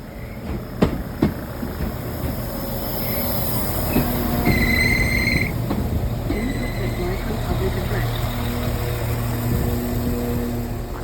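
A train in Pembrokeshire, Wales rolls past nearby with rumbling wheels, clicking rail joints and bursts of high metallic squealing, steady throughout.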